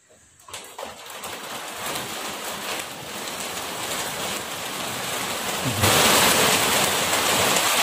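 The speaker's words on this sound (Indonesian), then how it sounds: "alhamdulillah hujan ya, karena ini musim kemarau" Steady rain falls during the dry season, a dense continuous hiss of drops on surfaces that swells louder near the end, with distant thunder rumbling low underneath and no one speaking.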